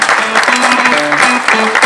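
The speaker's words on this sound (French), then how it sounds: "Nathalie Conders, sous vos applaudissements, qui va venir nous rejoindre sur scène pour clôturer cette conférence de presse" Audience applause at a press conference presenting the Dijon fair, a dense, steady wash of clapping with sustained tones running underneath for the whole two seconds.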